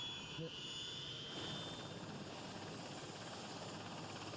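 A Spanish army Super Puma helicopter drones steadily at a distance, its engine and rotor noise forming a continuous wash that holds level throughout.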